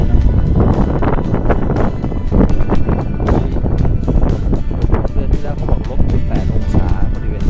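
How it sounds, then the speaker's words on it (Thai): Strong cold wind gusts buffet a cliffside walkway on Tianmen Mountain near snow, roaring loudly and continuously in the microphone with surges throughout, while someone talks over it. "ลมมันแรงด้วยนะเสียงลมนี่ เข้ามาเป็นช่วงช่วงนะครับ"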